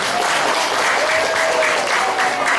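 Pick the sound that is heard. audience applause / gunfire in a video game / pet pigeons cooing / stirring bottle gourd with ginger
audience applause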